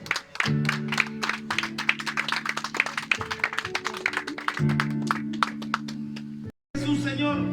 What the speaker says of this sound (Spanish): den una ofrenda de palmas a Jesús